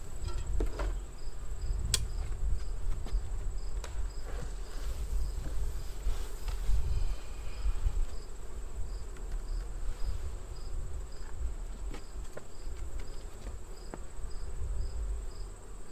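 Honey bees buzz steadily around an open beehive during a check for swarm and supersedure cells, a close, continuous drone with a few sharper taps, heard alone without talk.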